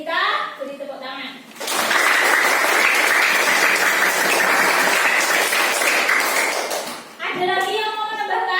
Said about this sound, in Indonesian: Terima kasih buat Devita. Beri tepuk tangan.